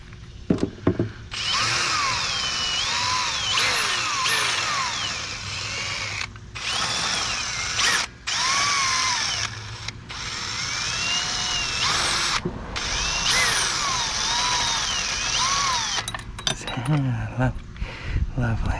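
A cordless power drill with a worn chuck runs in repeated close bursts, whining up and down in pitch with brief pauses between runs, during work on a John Deere lawn tractor.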